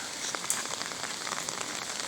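Steady rain falling on a flooded area with a children's playground, a dense, even patter of drops hitting surfaces and water, moderately loud and unbroken, with no voices.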